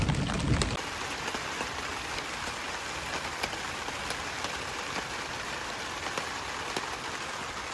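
Heavy rain pours steadily on a surface at an off-road tent campsite in the Ozarks, a dense, loud, unbroken hiss with scattered drops pattering close by.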